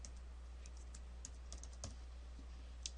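Fingers tap out a quiet, uneven run of keystrokes on a computer keyboard, entering text into layout annotation software over a low steady hum.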